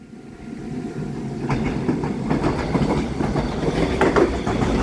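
EMU736+EMU735 local electric train departing Su'ao station on Taiwan's Yilan line: a steady rumble builds as the cars get moving, with rhythmic wheel clicks over rail joints, close and fairly loud, no talking.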